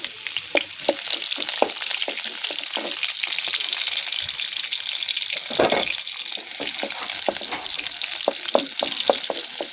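Onion and garlic fry in oil for a spring onion greens stir-fry, a dense continuous sizzle with scattered pops and stirring scrapes throughout, loud and close, no talking.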